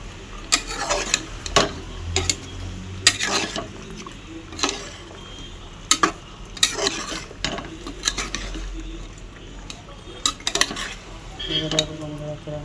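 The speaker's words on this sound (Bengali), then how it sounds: "গরম মশলা গুঁড়ো, জিরে গুঁড়ো দিয়ে ভালো করে নেড়ে দেবো" A utensil clatters and scrapes around a pan as ground garam masala and cumin are stirred into frying chicken, with a steady sizzle beneath and irregular sharp knocks against the metal.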